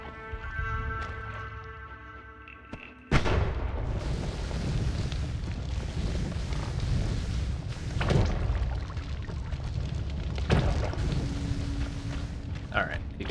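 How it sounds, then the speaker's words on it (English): Magic missiles explode in Noita, a series of booming thuds and crackling bursts following a sudden loud onset, with sharp impacts scattered over a continuous rumbling wash after a quieter tonal start. "Magic missiles."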